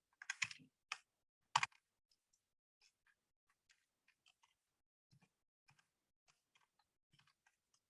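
Sparse, quiet computer keyboard taps while an annotation is typed, a few firmer clicks at the start followed by faint, irregular keystrokes.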